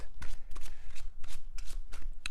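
Tarot cards shuffled by hand close up, a run of crisp riffling bursts and slaps coming in quick uneven bunches, with no talking.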